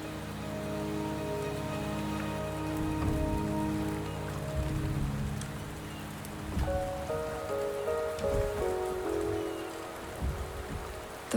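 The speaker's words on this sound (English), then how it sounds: "The rain is subsiding, and the sky will soon clear." Steady rain falls in the game Wuthering Waves, a continuous soft patter on surfaces with layered music tones running beneath it, moderately loud throughout.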